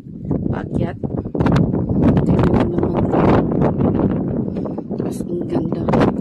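Strong wind blows on an outdoor stairway at the Discalced Carmelite monastery and sanctuary at Muhraqa, Israel. It buffets the microphone in loud, rough, continuous gusts while a person talks.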